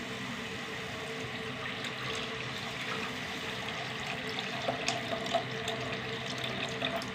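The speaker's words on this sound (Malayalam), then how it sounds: "നമുക്കിനി പുളിവെള്ളം ഒഴിച്ച് കൊടുക്കുക" Steady pouring tamarind water runs continuously into a curry pan at a close distance, a constant watery stream without pauses.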